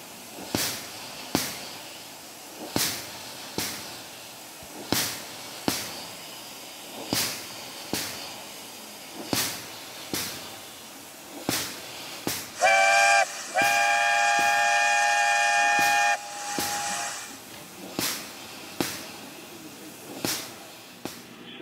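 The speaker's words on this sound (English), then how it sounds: "there's a sound effect of a steam engine, which has not been added later in video, but this is actually inside Keynote" Steam locomotive sound effect from Apple Keynote: steady rhythmic chuffing puffs about every half second, with a loud sustained steam whistle blast midway through, no talking.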